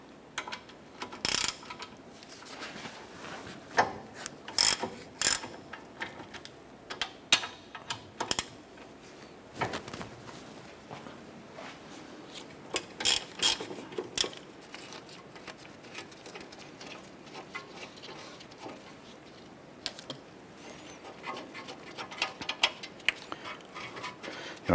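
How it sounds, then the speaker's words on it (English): A ratchet with a 17mm socket works loose the brake caliper bracket bolts on a 2008-2012 Honda Accord, giving rapid clicking bursts in irregular runs, close and unaccompanied by talk. "Using a 17mm socket, we're going to go ahead and remove our brake caliper bracket bolts"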